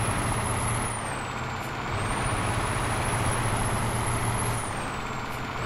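A truck engine idling and running in the American Truck Simulator game on a gaming desktop, a steady low diesel drone with a high whine that slides up and down, no talking.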